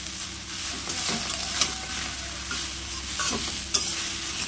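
Leaves fry in an oiled pan with a constant low sizzle. A spatula stirs with steady scraping, and a couple of sharper clinks ring against the pan.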